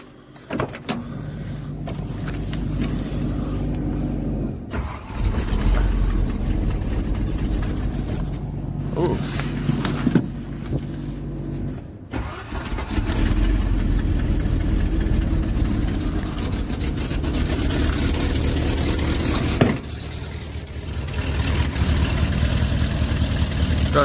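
A 1987 Ford F-150 with dual exhaust idles steadily and fairly loudly, its low rumble continuing with brief dips, while a person talks over it at times.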